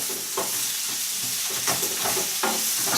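Food sizzles and fries in a hot pan while homemade soup is cooked, a steady close crackle with periodic stirring scrapes and no voices.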